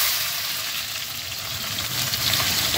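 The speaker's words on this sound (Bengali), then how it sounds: "এখন প্রথমে ভেজে নেবো এই পেঁয়াজগুলো।" Onions sizzle steadily in hot mustard oil, a dense, even crackle running close and fairly loud throughout with no voices.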